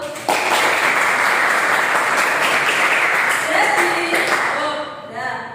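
Students in a classroom clap together during a science lesson on measurement, a sudden burst of dense applause that holds steady, then tapers off as a voice speaks at the end.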